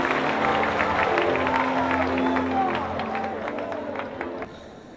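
Church congregation applauding and cheering, a dense wash of clapping with crowd voices mixed in, loud and close before gradually tapering off.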